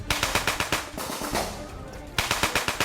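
Automatic gunfire in rapid bursts rattles loudly during a military training exercise, with a sustained noisy stretch in between, close and dominant.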